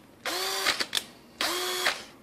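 Two short bursts from a Kimo 20V cordless drill driver spinning up and stopping, each with a whining motor tone and clicks between. It is close and fairly loud, with no talking.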